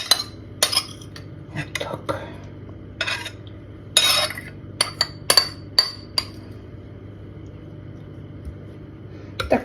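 A spoon clinks and scrapes against a bowl while lifting onion through a marinated meat salad coated in sauce, with several sharp, close metallic taps scattered over a low background hum.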